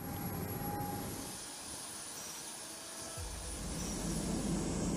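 C-5 Galaxy military transport aircraft, a loud continuous jet engine roar with a dip in the middle before swelling again.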